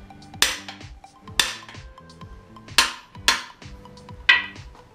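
Cam bearings being driven into a 440 engine block, five sharp metallic hammer strikes at irregular intervals with ringing decays, close and clear in a quiet shop.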